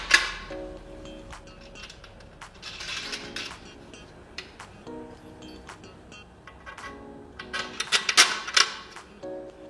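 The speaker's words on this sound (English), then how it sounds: "Simply go ahead and screw the pieces into place." Header kit frame pieces for an 8 ft Journey display being screwed together, giving scattered clicks, taps and light metallic rattles with a brief busier clatter near the end, close by and moderately quiet.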